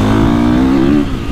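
A 2024.5 KTM 450 Factory Edition motorcycle engine revs close and loud in one short rising pull, then the tone drops away as the throttle eases.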